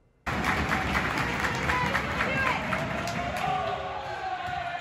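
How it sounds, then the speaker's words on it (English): Crowd of supporters in a gymnasium at a women's college volleyball match, sustained applause and cheering with shouts and bouncing, squeaky court noise filling the room at steady volume from start to end. "It has been almost a year since Chase Gymnasium has heard the roar of the crowd"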